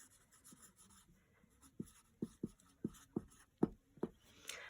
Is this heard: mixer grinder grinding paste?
no